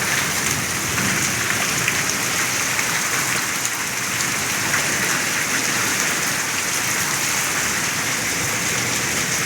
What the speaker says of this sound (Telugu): చూడండి మా ఇంటి దగ్గర ఎంత పెద్ద వర్షం పడుతుందో.